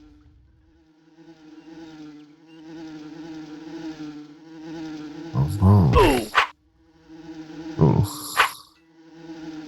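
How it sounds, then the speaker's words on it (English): Carpenter wasps buzz in the open-world MMO Asheron's Call, a steady droning hum under game music, with louder attack and hit effects bursting in near the end and a brief spoken exclamation. "Let's take out some carpenter wasps."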